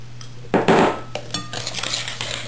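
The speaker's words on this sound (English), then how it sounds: "now I'll beat in the second egg" Whisk or spoon beating an egg into sugar in a mixing bowl for a cranberry banana loaf, a few wet slaps and scrapes against the bowl, close and fairly loud.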